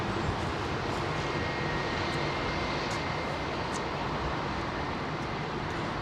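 An Airbus A319 with IAE V2500 engines at Heathrow gives a broad, steady jet roar with a faint whine, heard at a distance with no talking.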